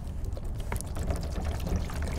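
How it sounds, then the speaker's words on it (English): Water poured from a container to mix with shoe cleaner, a steady close gurgling splash running throughout without pause. "we need to mix this with the water"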